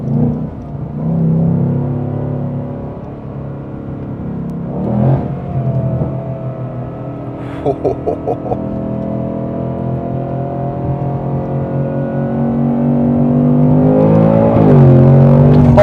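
A 2025 Ford Mustang Dark Horse's 5.0 V8 burbles through a steady low rumble while cruising, with a brief blip around the middle and the revs swelling louder toward the end, no voices.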